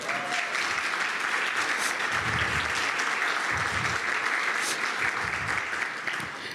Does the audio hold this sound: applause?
yes